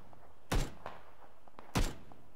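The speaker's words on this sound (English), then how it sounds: "Where are you shooting now?" Two loud, sharp gunshots from the game PlayerUnknown's Battlegrounds, spaced about a second apart, each a broad percussive crack with a short tail over a quiet background.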